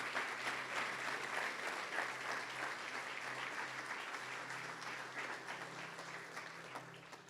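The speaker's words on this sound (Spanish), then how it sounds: "Yo creo que esto se merece un aplauso." A church congregation applauds during a sermon, a steady, fairly faint wash of many hands clapping that holds for several seconds and tapers slightly, with no one speaking over it.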